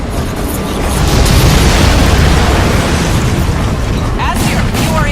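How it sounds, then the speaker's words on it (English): A loud, sustained missile explosion in the video game Crysis 2 roars as a broad, rumbling blast that holds steady for several seconds, with faint radio-style speech and a few tonal game sounds near the end. "Target locked. Missile away."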